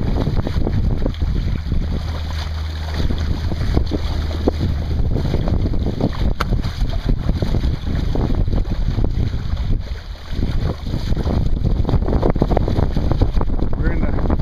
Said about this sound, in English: We're heading out into the wind more.